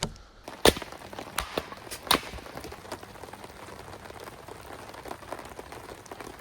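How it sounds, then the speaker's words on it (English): Wood is chopped outdoors at a rainy campsite, with a few sharp separate blows standing out over the soft steady patter of rain on a tarp. "I'll cut wood in the rain"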